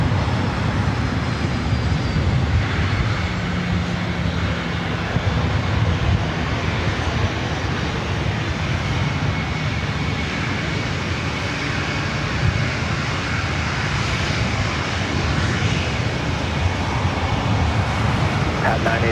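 Southwest Airlines Boeing 737-700 jet bound for Denver taking off at LAX, a constant broadband engine roar with wind buffeting on the microphone and faint voices mixed in throughout.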